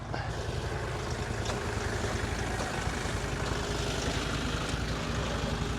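A tractor engine drones steadily and loud while it winches a CF Moto UForce out of deep snow, a continuous close rumble with no pauses or talk.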